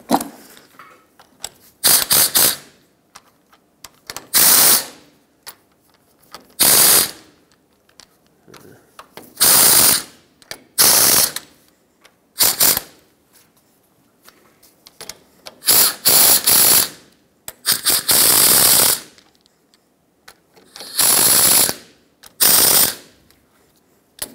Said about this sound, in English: when I tighten them up, I'm going to go in a cross pattern